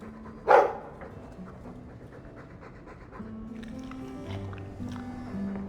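A dog in the game Dragon Age 2 gives a single loud bark close up, then pants and breathes over a quiet background music bed.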